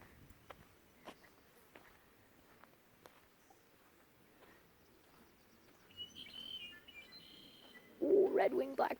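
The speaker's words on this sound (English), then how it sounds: "Ooh, red-winged blackbirds everywhere." Red-winged blackbirds calling during a desert hike, faint scattered chirps at a distance over light footsteps, with a louder burst of calls near the end.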